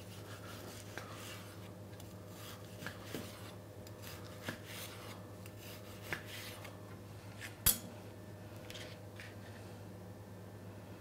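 A knife cuts through rolled chicken spirals, making faint, sparse clicks and scrapes with one sharper knock, all over a quiet steady background hum.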